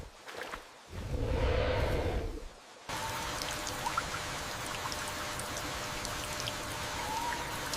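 Rain drums on broad leaves in a continuous close patter of many drops, after a brief louder whooshing rush at the start.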